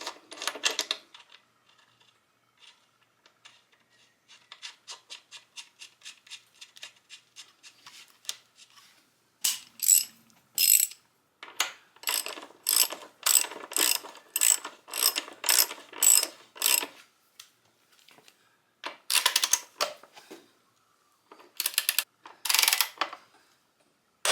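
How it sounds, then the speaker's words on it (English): A torque wrench ratcheting while tightening a bolt on a 2012 Kawasaki KX250F dirt bike, with rapid sharp clicking runs in repeated bursts separated by pauses, close and loud. "then I'll torque this to 72 foot-pounds."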